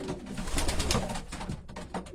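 A racing pigeon coos in a close, steady series of soft throaty calls, alone with no voices over it.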